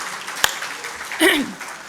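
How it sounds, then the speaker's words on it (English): An audience at a talk on policy research, entrepreneurship and innovation applauds, giving a soft, continuous wash of clapping under a brief spoken voice and a single sharp click. "So a huge round of applause for those beggars."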